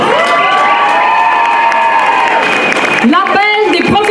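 A loud crowd at a 2014 rally in Lyon cheers and shouts with scattered applause, voices overlapping in a lively, sustained roar.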